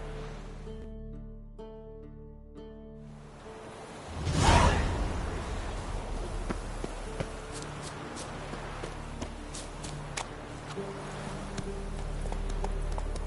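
Horse hooves clip-clopping while riding in The Witcher video game, a steady run of soft thuds under wind-like rushing and ambient game sound, starting after a quiet musical stretch.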